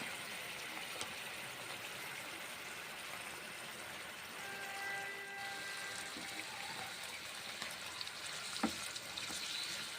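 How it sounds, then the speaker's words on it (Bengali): Beans and white sesame seeds fry in a pan while being stirred, giving a steady, moderate sizzle with faint scraping and a brief sharp clink near the end. "এই রেসিপিটা ভেজে ভেজে রান্না করছি।"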